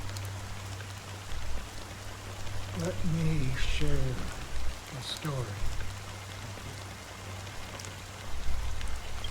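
Fine rain falls in a steady hiss in a Honkai Star Rail scene, constant throughout, while someone narrates over it.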